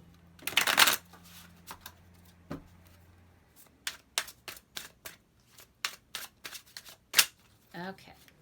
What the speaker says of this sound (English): Okay, we'll cut the deck.